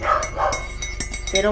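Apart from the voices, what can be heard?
dog barking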